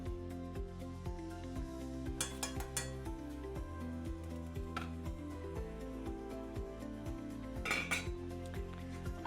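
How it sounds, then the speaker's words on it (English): Lentils go into a pot of boiling water on a kitchen stove, with metallic clinks and rattles of pot and utensils repeating softly against a steady low hum. "my water is boiling, so we're gonna go ahead and add the lentils"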